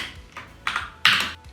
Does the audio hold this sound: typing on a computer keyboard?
yes